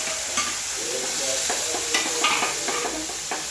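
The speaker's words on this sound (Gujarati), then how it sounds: "આપણે પનીરના ટુકડા બધા નાખી દીધા છે ને હું હલાવું છું" Paneer pieces are stirred in a hot pan, sizzling and frying steadily, with soft scrapes and knocks of the spoon coming in short irregular bursts, close and with no talk.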